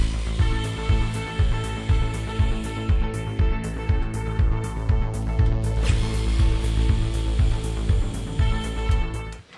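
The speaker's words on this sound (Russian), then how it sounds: "Теперь откручиваем два болта крепления замка." Two lock mounting bolts being unscrewed, heard as a steady, rhythmic mechanical whirring with regular pulsing beats about twice a second, running continuously and close by.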